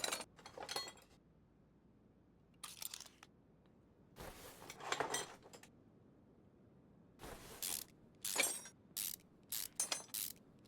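Screws being unbolted in Car Mechanic Simulator 2021, short ratcheting mechanical bursts separated by quiet gaps, repeated several times at low volume with no talk.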